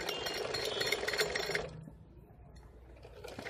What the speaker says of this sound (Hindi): अब जो ये हमारी सिलाई है इसके ऊपर ऊपर हमें स्टिचिंग करना है।